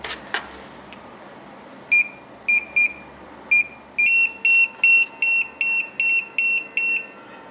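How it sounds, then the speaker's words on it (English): Short electronic beeps from a TD162 paging system pager with vibration turned off, sounding in a series of bursts that grow longer and more regular toward the end, clear and close with no voices. "As you can see, this only has the beep and no vibration."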